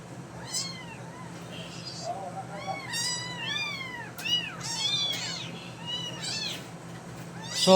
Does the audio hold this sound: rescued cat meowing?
yes